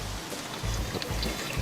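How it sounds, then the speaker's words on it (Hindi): Steady rain falls and patters outdoors while people wait for a bus, a continuous soft hiss with faint drips and low rumble throughout, with no voices. "यहाँ इतनी बरसात हो रही है"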